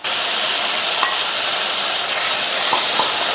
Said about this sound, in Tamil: இந்த தக்காளியையும் 1 நிமிஷத்துக்கு நல்லா வதக்கி விட்டுக்கலாம்